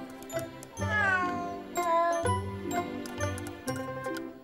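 A few short cat meows over soft background music with light tinkling chimes, moderately quiet.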